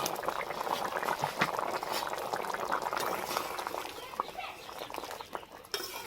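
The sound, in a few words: fried pointed gourd fritters boiling briefly in curry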